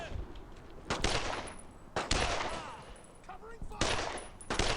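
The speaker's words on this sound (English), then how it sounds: "Mac's over there providing covering fire." Game gunfire in the WWII shooter Brothers in Arms: Road to Hill 30, with several loud bursts of rifle and machine-gun fire cracking over a steady battlefield din, a squadmate laying down covering fire.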